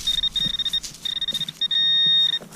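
A metal detector near a sidewalk at an old Alabama home gives a steady high-pitched tone that sounds in broken bursts, with faint scraping and rustling underneath.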